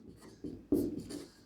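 Chalk or a marker writes on a board during a lesson on solving determinants. Several short scratchy strokes come close together, with one firmer stroke in the middle.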